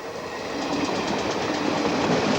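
A train on the Fenchurch Street to Shoebury line rumbles past close by, loud and rising, with rhythmic clickety-clack of wheels over rail joints.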